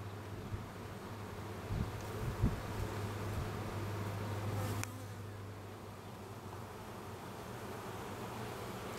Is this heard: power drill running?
no